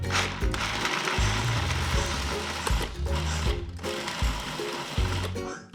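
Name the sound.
food processor pulsing mochi filling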